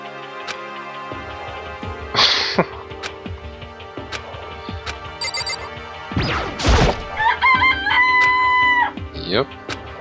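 Chickens clucking in a chicken coop in the video game Danganronpa, with crowing-like calls and a bright ringing tone amid game sounds and music, fairly loud across the scene.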